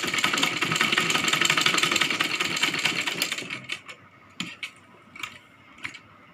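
A sewing machine stitches a Rajputi kanchali blouse with a fast, continuous mechanical whir for about three seconds, then stops, leaving a few scattered clicks and taps of handling the fabric.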